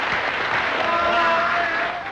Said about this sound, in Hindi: इन तालियों से, इस शोर से पता चलता है कि कृपा शंकर जी को कौन नहीं जानता